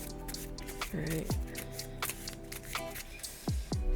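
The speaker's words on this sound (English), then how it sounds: "Shuffle it back into my deck." Playing cards from a Marvel Champions card game are shuffled back into a deck, making short papery rustles and snaps over a soft tonal background, with no talking.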